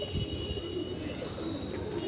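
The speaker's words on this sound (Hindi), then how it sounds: "सफ़ेद बाजुओं का कबूतर है" A desi pigeon with white wings coos close by, soft low repeated throaty calls over a faint background hum.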